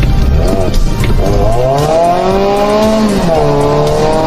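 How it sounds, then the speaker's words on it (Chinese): A car accelerating hard on a curve while overtaking a slower Audi, its engine revving loudly with repeated rising and falling pitch sweeps, close and continuous. "车主嫌弃前面的奥迪速度太慢了，直接就开始弯道超车"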